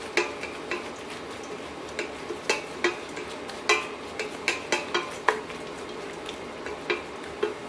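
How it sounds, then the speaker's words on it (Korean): Pork and napa cabbage kimchi stir-fried in a pot, with a steady run of sharp utensil clicks and scrapes against the pot over a low sizzle, close and fairly quiet, with no talking. "고기부터 이렇게 먼저 볶아준 다음에 여기에 김치를, 배추김치를 같이 볶아줍니다"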